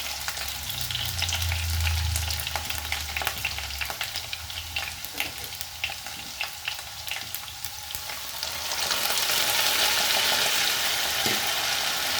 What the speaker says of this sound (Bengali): আলুগুলো লাল লাল করে ভাজা হয়ে গেছে, এবার আমি এর মধ্যে দিয়ে দেবো বেটে রাখা মশলা।